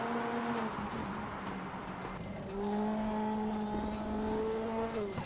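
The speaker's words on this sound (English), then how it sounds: "You can hear the turbo." A turbocharged inline-four race car engine drones at a steady pitch, then drops and climbs again with a turbo whine laid over it, heard from nearby and moderately loud, with no talk.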